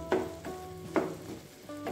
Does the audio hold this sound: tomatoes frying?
yes